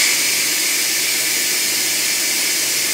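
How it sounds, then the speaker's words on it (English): Steam hissing steadily from a plugged-in kitchen cooker after its release is triggered, a continuous broad rushing hiss, fairly loud and close, with no talking over it. "and this steam comes up"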